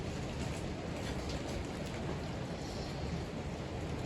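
Steady, dense rain patters continuously at a low, even level, with no voices over it.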